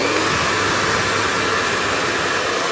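A 3,200 watt hair dryer blows continuously at close range, giving a loud, steady rushing whoosh with no pauses and no voices.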